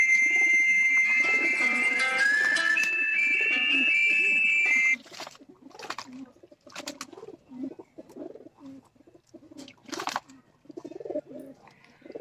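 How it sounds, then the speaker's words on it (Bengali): Pet pigeons at home on a winter morning bathing in water, cooing close by, with a dense busy stretch at the start and then scattered splashing and wing-flutter bursts. "দর্শক বন্ধুরা দেখতেই পাচ্ছেন পায়রাগুলো খুব আনন্দের সাথে গোসল করছে।"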